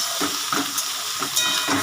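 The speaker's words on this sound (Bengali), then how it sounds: "এগুলো একটু ভাজা ভাজা হবে" Mixed vegetables fry in a hot pan for vegetable rice, giving off a steady, close sizzle with soft stirring scrapes over it.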